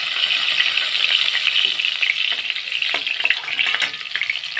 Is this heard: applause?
no